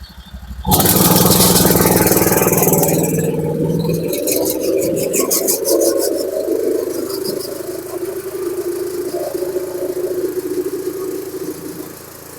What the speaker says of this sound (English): I'll just crank this up to maximum revs